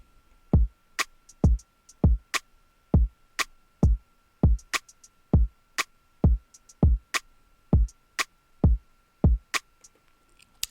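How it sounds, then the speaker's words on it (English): Afrobeat drum loop of snare, snap and hi-hat: punchy low thumps and sharp snapping backbeats, now dotted with quick, light hi-hat ticks, repeating in a steady, busy pattern for several bars with no talking. "So this is with the hi-hat."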